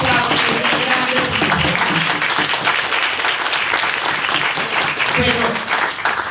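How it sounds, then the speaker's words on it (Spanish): Audience at a women's forum on phasing out fossil fuels breaks into sustained, loud applause of many hands, with voices and cheers mixed in. "eso merece un aplauso muy grande"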